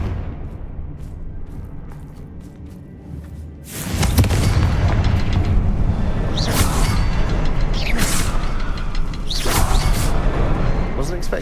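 A Confringo blasting spell explodes against spider webs in Hogwarts Legacy. A quiet stretch gives way to a sudden loud blast, followed by sustained rumbling and a few whooshing surges.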